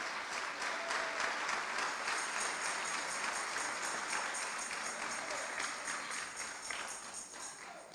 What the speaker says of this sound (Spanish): Damos palmas de alabanza al Señor, hermanos.